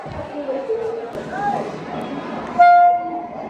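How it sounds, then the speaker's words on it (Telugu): The Venkatadri Express, running from Chittoor to Kacheguda, approaches a station with a rumbling roll, then gives one loud, clear horn blast near the end while a person talks over the noise. "వచ్చేస్తుంది వెంకటాద్రి ఎక్స్ప్రెస్"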